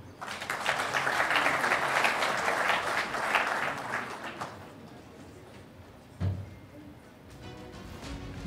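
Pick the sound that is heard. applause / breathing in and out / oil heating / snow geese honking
applause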